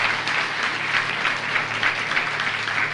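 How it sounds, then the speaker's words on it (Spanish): Sustained, dense applause from a church congregation at an evening worship service in Mexico City, steady and fairly loud throughout, with no voices standing out. "denle un aplauso al Señor"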